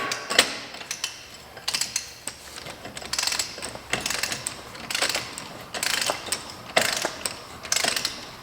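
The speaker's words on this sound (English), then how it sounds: "one torque wrench that I have set for 200 pounds torque. So spin this nut on" A torque wrench set to 200 pounds works a nut onto a brake hub, rapid ratcheting clicks in repeated bursts separated by short pauses, close and loud with no talk.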